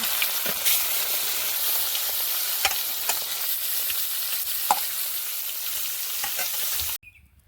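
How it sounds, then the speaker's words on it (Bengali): Fish slid into hot oil in a frying pan, a continuous bright sizzle with scattered pops and crackles that holds steady for about seven seconds before cutting off abruptly. "মাছগুলো এবার গরম তেলে দিয়ে দিচ্ছি ভাজার জন্য"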